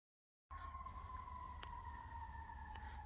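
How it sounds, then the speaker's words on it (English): A faint, distant siren holds a steady wailing tone over low outdoor rumble and insect-like hiss at what seems to be a quiet morning fishing spot, with no talking. "of course as soon as I start to hit the button I hear a siren"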